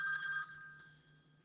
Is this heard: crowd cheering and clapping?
no